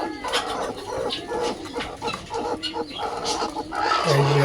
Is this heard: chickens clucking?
yes